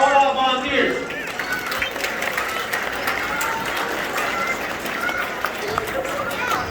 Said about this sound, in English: So I want to give a huge applause for all our volunteers.